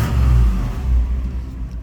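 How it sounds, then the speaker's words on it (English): An old Chevy Suburban's 454 V8 engine runs close by with a deep, low rumble that swells briefly and then settles into a steady throb. "motor sounds good. You know, this old 454"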